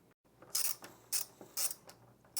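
A 5/32 Allen wrench turns crossbar mounting bolts on a transfer roller belt assembly, giving a series of four or five sharp metallic ratcheting clicks and scrapes, close up and otherwise quiet.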